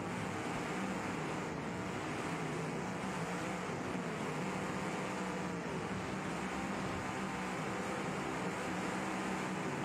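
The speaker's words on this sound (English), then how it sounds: "The car's got louder?" A racing video game car engine drones steadily for the whole stretch, a dense, even roar with faint wavering pitch and no breaks or talk.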